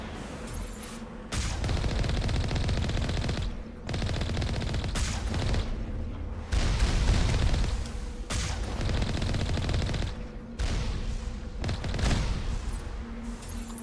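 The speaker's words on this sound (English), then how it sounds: "They're already shooting." Sustained bursts of gunfire from a Mass Effect Legendary Edition firefight, loud and dense, coming in several long volleys separated by brief lulls, with almost no talking.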